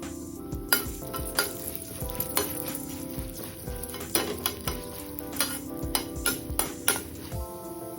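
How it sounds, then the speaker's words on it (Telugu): Urad dal and chana dal fry in oil in a pan. A steady low sizzle runs under repeated sharp metallic scrapes and clinks as a spoon stirs against the metal. No one speaks. "ఇప్పుడు ఇదే ఆయిల్లో 2 స్పూన్ల మినపప్పు, 2 స్పూన్ల శనగబేడలు వేసి వేయించేసుకోవాలి."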